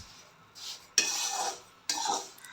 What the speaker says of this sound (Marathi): रवा छान भाजून होतो आहे आपला